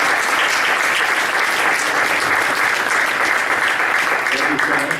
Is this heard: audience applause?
yes